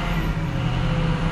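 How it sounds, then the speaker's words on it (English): A 6.0L Powerstroke diesel truck engine runs under throttle with a misfire, giving a steady, loud, close rumble that fills the whole short stretch with no voices. "The truck is skipping."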